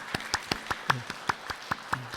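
About eleven sharp claps in an even rhythm, fairly quiet and close, as a church congregation at a Wednesday service applauds to welcome a new pastor.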